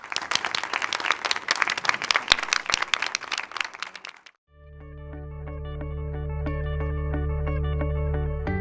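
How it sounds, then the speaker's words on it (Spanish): Lively, brisk clapping from an audience at a conference event, loud and dense with sharp individual claps, ending abruptly halfway and followed by a sustained musical tone. "Les pedimos un aplauso."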